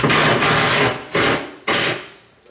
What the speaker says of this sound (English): we just gonna put our screw in